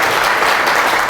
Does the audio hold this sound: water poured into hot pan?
no